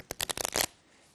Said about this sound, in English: You lose the card in the deck, you do multiple cuts, you can even shuffle